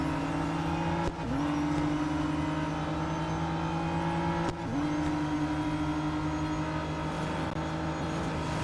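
Race car engines in the Real Racing 3 video game whine at high revs, steady and loud, with two quick dips in pitch as gears shift, and no talking.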